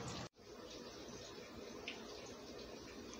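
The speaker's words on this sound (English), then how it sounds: "Drain the water off of them, and I'll put the potatoes back." Water from boiled potatoes pours and splashes steadily into a sink as they are drained, a continuous rushing stream at moderate volume after a brief cut at the start.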